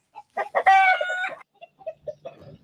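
A pet hen close by gives a series of short clucks, then a longer, drawn-out agitated squawk, followed by more scattered clucks.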